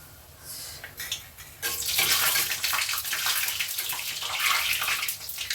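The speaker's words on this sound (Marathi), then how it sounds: "आता हे टाकते मी तेलामध्ये" Rolled wheat-dough puris dropped into hot oil over a low flame, a sudden burst of bubbling sizzle that stays loud and frothy, close up with no talking.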